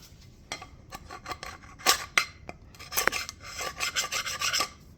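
Scraping and prying at leftover steering gasket residue on a Farmall H tractor, a series of close, irregular raspy scrapes and metallic rubs with no talking.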